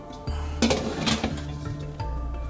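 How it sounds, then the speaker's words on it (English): A heavy metal lid clanks onto a pot of simmering vegetable biryani, a couple of close clinks and a settling rattle over a low stove hum. "So that's going to go now with the lid on"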